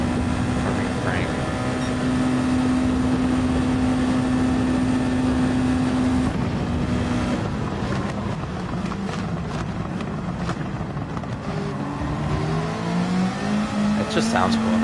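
A Ferrari race car engine in Gran Turismo 7 drones and revs continuously, its pitch shifting as it accelerates and changes gear, with a voice talking over it.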